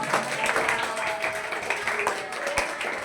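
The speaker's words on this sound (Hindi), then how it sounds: "विक्रांत के लिए जोरदार तालियां।" An audience applauds a student's exam success at a coaching centre, with steady dense clapping throughout and a few louder individual claps standing out over a continuous crowd wash.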